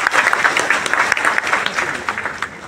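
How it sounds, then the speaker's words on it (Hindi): Enthusiastic audience applause at a motivational talk fills the space, dense continuous clapping that is loud and near, then begins to taper slightly toward the end with no voices over it. "एक जोरदार तालियां"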